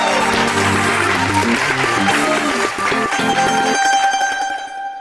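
An audience claps loudly and steadily under musical tones, the applause tapering off toward the end.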